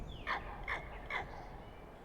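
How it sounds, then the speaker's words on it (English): Three evenly spaced caws from a crow in Farming Simulator 25, rural farm setting, fairly faint over a steady low background rumble. "don't know if that's a crow making that sound or what."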